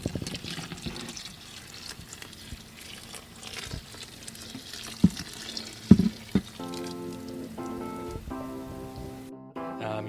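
Wort drains from a homebrew mash cooler, a continuous splashing and trickling pour with a few louder clunks near the middle, then ends in a brief silence.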